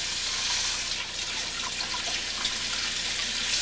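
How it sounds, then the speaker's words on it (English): Tap water runs steadily into a container for beer brewing, a continuous close splashing gush with no pauses and no talking. "what I'm going to do is I'm going to basically fill this with water the best I can"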